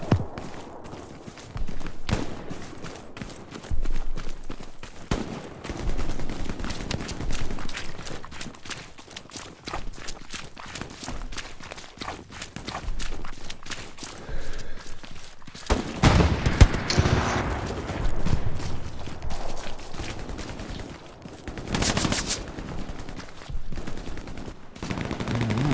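Gunfire in the Hell Let Loose battlefield game: repeated rifle and machine-gun bursts at varying distances mixed with footsteps and movement, near and loud in places, with little talk.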